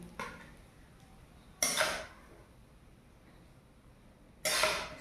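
Cooked pasta is scooped out of a wok with utensils. Two sharp metallic clinks ring out a few seconds apart over near silence.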